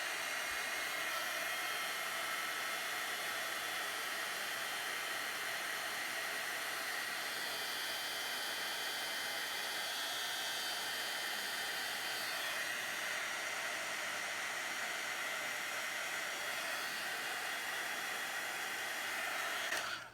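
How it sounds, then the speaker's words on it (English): A heat tool blows a steady, even hiss of hot air, shrinking and shriveling the cut ends of nylon ribbon; a loud, continuous whoosh runs unbroken from start to finish with no voices. "It will shrink and shrivel when you hit it with the heat tool."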